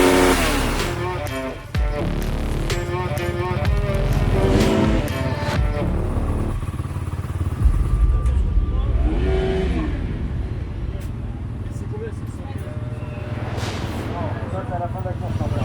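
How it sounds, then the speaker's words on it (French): An enduro motorcycle at the Enduropale 2022 technical inspection revs hard for a sound-level meter check, loud repeated engine surges rising and falling over a steady idle, with people talking nearby and crowd noise in the background. "les vérifications techniques de la moto avec le fameux contrôle sonomètre"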